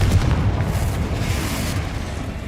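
Explosive Confringo spell blasts in the Hogwarts Legacy video game, a dense rumbling boom sustained across the moment, loud and close with no speech over it.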